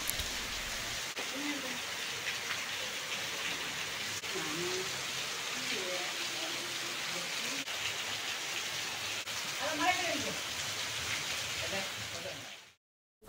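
Heavy rain pours steadily over the garden where a tortoise wanders, a dense continuous hiss lasting throughout, with someone speaking softly beneath it.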